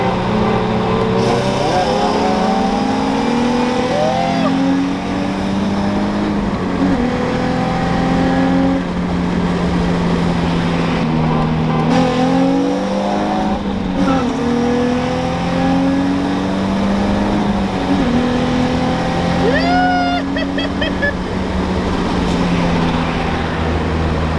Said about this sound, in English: So now that you guys know the mods on the G35 and how the WRX sits, let's go ahead and do some runs.